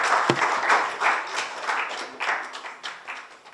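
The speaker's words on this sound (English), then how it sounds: "a round of applause for our guest speaker today, Architect Yasmin Shariff" An audience applauds a guest speaker, an architect, at a design talk; the clapping is steady and fairly loud, with rolling bursts swelling and easing across the whole stretch, and no voices.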